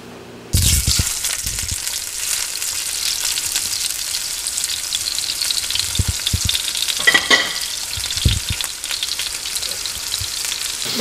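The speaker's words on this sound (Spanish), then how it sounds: "ya lo tenemos ya listo para echar lo que es el filete de pescado" Yellowtail snapper fish fillet frying in a hot pan: a dense, steady sizzle bursts in after a half-second of quiet and keeps crackling loudly, with a few soft thuds and spatters along the way.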